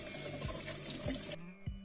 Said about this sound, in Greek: Μετά ξεβγάζω με μπόλικο νεράκι τους βολβούς, να φύγουν τα πολλά τα χώματα.